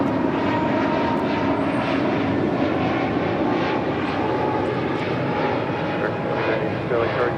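A Nippon Cargo heavy jet lands on runway 25 left at LAX, a loud, continuous engine roar that stays even from start to finish.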